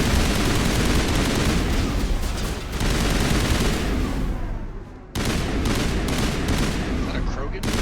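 Heavy gunfire in the Mass Effect video game, a dense and continuous rattle of shots and blasts that barely lets up, cutting out briefly before the barrage resumes.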